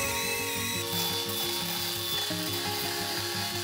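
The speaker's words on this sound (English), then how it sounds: "I use a wire brush." A wire brush scrubs bark off salvaged waste wood for a carpenter-built BBQ table, giving a steady, close, continuous rasping rub that runs without pause and with no voices.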